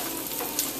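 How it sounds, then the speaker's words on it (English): Veal cutlets lightly frying in oil in a frying pan, a steady, close sizzle with a soft crackling hiss throughout. "Now what we want to do here is lightly fry them"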